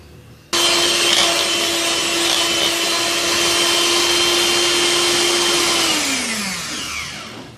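An electric hand mixer whirs steadily as it beats cupcake batter with powdered sugar, a loud constant motor drone with a high whine that drops in pitch as it winds down near the end.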